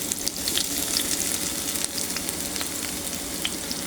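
Chopped onion drops into a small amount of hot oil in a pan and sizzles loudly and continuously, a dense crackling hiss with scattered sharp pops, close up and without any voice.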